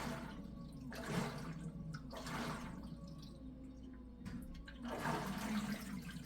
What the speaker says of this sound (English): You can actually hear now it's agitating faster